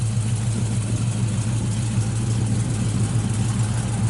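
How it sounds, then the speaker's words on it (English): A 1968 Chevrolet Camaro SS engine idles steadily nearby through dual exhaust, a deep, even rumble with no changes in pace, heard alone. "Sounds real good, dual exhaust out the back."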